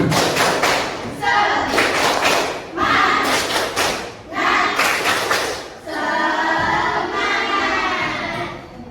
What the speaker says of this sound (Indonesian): Tepuk semangat ya, bisa ya? Tepuk semangat.